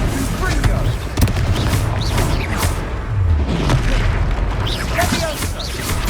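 Repeated booming blasts of the Confringo fire spell in the Hogwarts Legacy video game, several explosive hits layered over battle effects and character voices.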